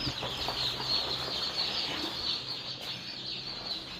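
Young chicks inside an incubator give a busy, overlapping chorus of high peeping, close and continuous, with soft rustling and fluttering underneath.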